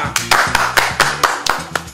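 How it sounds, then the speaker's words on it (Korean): A small studio audience at a Korean late-night podcast recording claps in a steady run of about eight sharp, close hand claps evenly spaced, with nobody talking over them. "그것 때문에 박수 쳐주신 건가요?"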